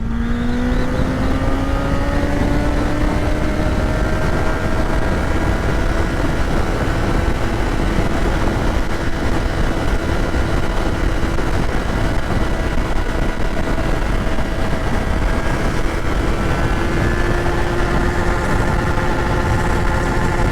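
A Kawasaki Z900 motorcycle accelerating in first gear up to about 100 km/h, a loud continuous engine whine climbing steadily in pitch and then holding near the limiter, buried in strong wind rush.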